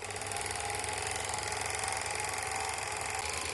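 The motor of a Rus (Русь) film projector runs with a steady mechanical whir and a fine rapid clatter, constant and moderately quiet throughout, with no talk.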